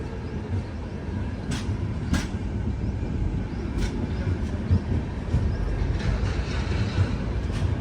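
Ala Hazrat Express sleeper train from Ajmer to Bhuj pulling into Adipur Junction, a steady loud rumble heard from inside the carriage with a few sharp clicks and squeaks over it.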